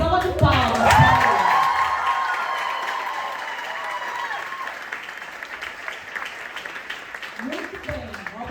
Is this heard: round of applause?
yes